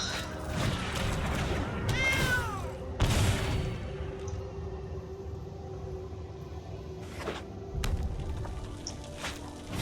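A cat creature card in Magic: The Gathering Arena, a Cauldron Familiar deck, gives one rising-falling meow amid digital game effects, thumps and whooshes. The meow is short and moderately loud, and other card sounds follow it.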